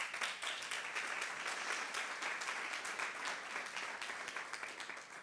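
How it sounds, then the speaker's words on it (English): An audience at a business breakfast debate event claps steadily, a sustained wash of applause that runs evenly for several seconds at moderate distance. "And one applause for Goodyear's talent."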